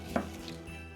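A kitchen knife cuts a halved pear into wedges, a single crisp slice and tap on the board up close, followed by quiet handling.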